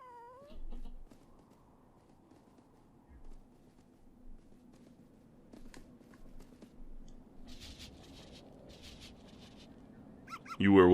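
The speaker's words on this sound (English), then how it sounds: "That is a big-ass cat." A big cat in the video game Tokyo Jungle gives a wavering meow at the start, followed by quiet game ambience with scattered soft sounds and a loud burst at the very end.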